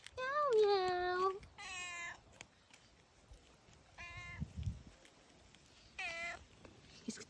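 A cat meows repeatedly in drawn-out, close, fairly loud calls. There are several separate meows with pauses between them, and a person speaks softly in French at times.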